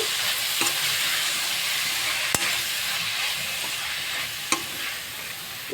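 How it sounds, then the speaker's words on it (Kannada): Continuous sizzling of spinach frying in hot oil, with a few sharp clinks of a utensil stirring the pan. "ಇದು ಇವಾಗ ಚೆನ್ನಾಗಿ ಫ್ರೈ ಆಗಬೇಕು."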